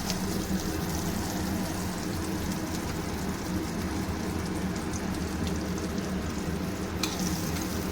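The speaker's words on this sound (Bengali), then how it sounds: "এবার কড়াই আমি একটুখানি বাটার দিয়ে দেব।" Butter melts in a kadai for white sauce pasta, giving a steady, even sizzle that crackles softly and continuously at moderate loudness with no talking.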